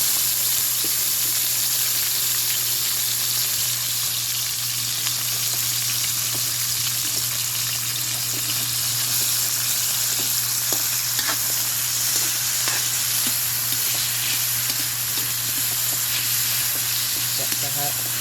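Tomatoes caramelize in a pan alongside garlic for adobong sitaw with squash, a constant soft sizzle and hiss under a steady low hum, with occasional faint clicks of stirring.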